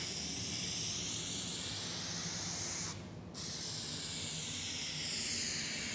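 A rattle can sprays primer onto a car in a loud, continuous hiss, broken once by a short pause before the spray resumes.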